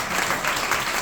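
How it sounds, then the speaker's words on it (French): Congregation applauding during a church sermon service, a dense, continuous wash of clapping from many people, fairly loud and sustained throughout. "On va applaudir le Seigneur Jésus."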